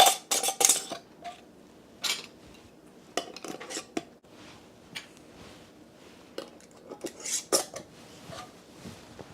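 Metal lids set onto glass canning jars of vegetable beef soup, a string of close, sharp clinks and clatters in uneven bursts with quieter gaps between, no voices.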